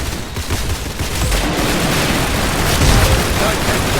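Dense, loud video-game gunfire and explosions form a continuous roaring barrage, with a voice speaking underneath.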